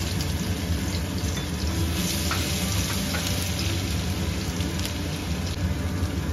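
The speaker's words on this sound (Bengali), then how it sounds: "রসুনটা একটু ভাজা ভাজা হবে।" Crushed garlic with cardamom and cinnamon sizzles in hot oil in a home kitchen, a steady, dense crackle that runs without pause at an even, moderate level.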